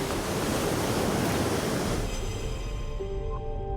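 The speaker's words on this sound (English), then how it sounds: "By April, waves are back, pounding the shore of Alaska's largest northerly island." Ocean waves pounding the shore of St. Lawrence Island, Alaska, a loud, continuous roar of surf that eases slightly toward the end.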